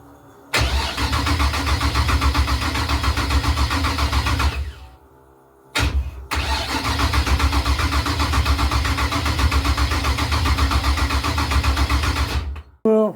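A Ford Capri with a V8 engine cranks in two long loud bursts, the starter churning rhythmically with a short pause between tries, without catching.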